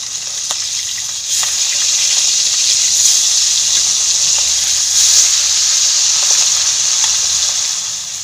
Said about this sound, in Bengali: এইভাবে সব মাছগুলো ভেজে নেব